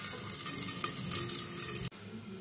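Potatoes fry in a pan, a loud, dense, continuous sizzle close by that cuts off abruptly near the end.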